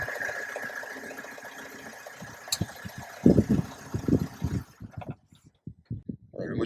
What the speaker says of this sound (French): le moteur a redémarré, il tourne correctement